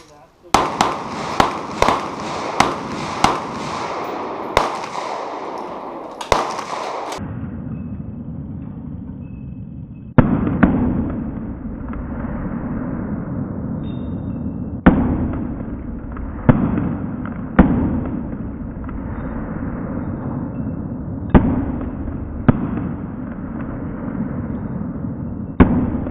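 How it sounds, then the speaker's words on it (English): Repeated loud rifle shots from an AR-15 fitted with a UAG muzzle brake, a rapid string of sharp cracks followed by slower, spaced single shots with booming echo, close by and with people talking in between. "Loud rifle."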